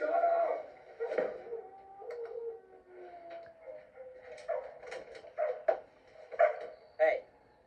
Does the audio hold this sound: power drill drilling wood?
no